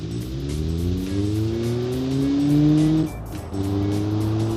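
The Cobbler, an AI-generated car with roughly Volkswagen Beetle power in BeamNG, drives with a loud engine that climbs in pitch as it revs up, drops briefly at a shift or lift, then pulls again, with tires faintly squealing.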